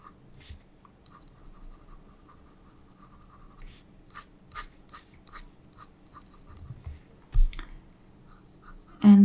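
A pencil sketches a lion's mane in a sketchbook with soft scratchy strokes that come in irregular short bursts over quiet paper rustle, with a couple of louder taps near the end.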